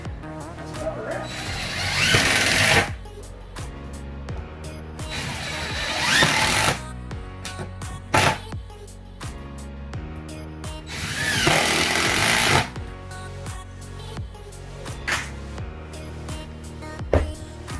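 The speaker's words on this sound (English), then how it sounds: "sink these last couple screws in, and that's about a wrap." A power drill drives screws into a new plywood subfloor laid over rot-damaged framing, whirring in three loud bursts separated by quieter tool handling and clatter.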